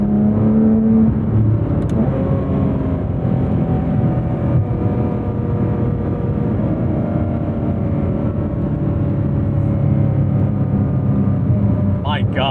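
A Porsche 911 991.2 GT3 RS engine revs hard and loud through high rpm with rising harmonic tones, a continuous near roar while the car accelerates, with voices faintly underneath.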